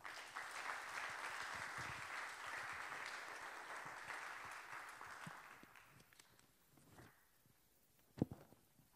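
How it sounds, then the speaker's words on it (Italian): An event audience in Vaccarizzo Albanese applauds the partners, a sustained wash of clapping for about six seconds that fades into scattered claps and a single sharp knock. "Chiedo un grande applauso per i partner."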